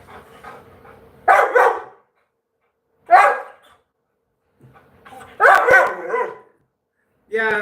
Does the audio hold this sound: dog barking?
yes